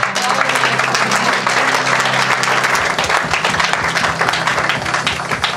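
A church congregation breaks into loud, sustained applause, many hands clapping close together in a dense, continuous wash that fills the room.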